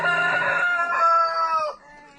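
A homestead rooster crows once, loud and close, a long harmonic call that rises, holds and then trails off into quiet.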